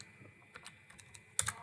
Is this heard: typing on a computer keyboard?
yes